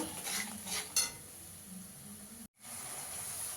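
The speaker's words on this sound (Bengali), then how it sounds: "মশলাটাকে ভালো করে কষিয়ে নেব" Spice masala with tomato and ginger sautéed in a pan, with a soft hiss and a few light scrapes and clinks of a spoon, quiet and close, broken by a brief silent gap.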